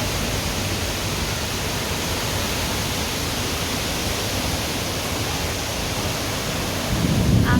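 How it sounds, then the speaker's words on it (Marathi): Heavy rain with strong wind roars in a dense, unbroken wash of noise, constant and loud throughout, swelling slightly in the final moment. "आवाज बघू शकता तुम्ही. बघा पाऊस."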